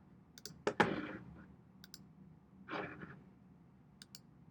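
A computer mouse click on a Run Analysis button: a couple of faint, sharp clicks close together, followed by a softer click a moment later in a quiet room.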